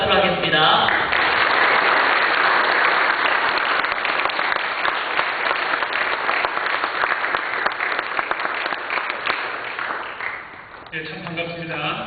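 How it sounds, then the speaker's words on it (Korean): A church congregation applauds together to welcome a visiting missionary, a dense, steady wash of clapping that runs loud for about ten seconds before tapering off, with a voice speaking briefly at the start and end. "우리 선교사님 나오시는데 환영의 박수하면서 함께 받도록 하겠습니다"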